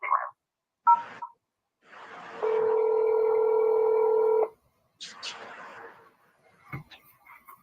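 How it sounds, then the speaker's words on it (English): Telephone keypad DTMF tones dialing an extension on an automated phone menu line: a few short beeps, then a steady held tone for about two seconds, followed by further brief tones and line noise. "If you know your party's extension, you may dial it now or at any time during this message."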